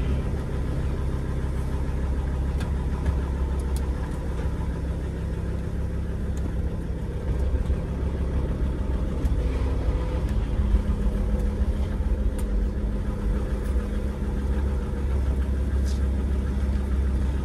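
A car engine runs steadily while driving, a continuous low droning hum with road rumble heard from inside the cabin, moderately loud and unbroken, with no talk.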